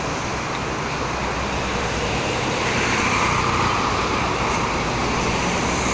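Busy traffic on the Jakarta–Cikampek toll road with many heavy three-axle vehicles, a dense, steady roadway roar of passing cars and trucks, constant and unbroken.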